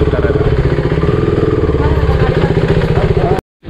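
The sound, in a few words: motorcycle engine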